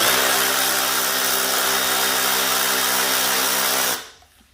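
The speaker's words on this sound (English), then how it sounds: "I got a 10 millimeter on my Milwaukee 3/8 battery operated ratchet. Go ahead and remove the screws" Milwaukee 3/8-inch battery-powered ratchet with a 10 mm socket spinning out screws on a snowblower: a steady, close whirring buzz that runs for about four seconds, then cuts off into quiet.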